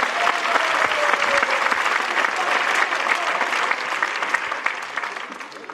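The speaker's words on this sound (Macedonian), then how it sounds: "Ајде, дайте на аплауз" A stand-up comedy audience applauds loudly and continuously, a thick, even roar of many hands clapping that fades slightly toward the end.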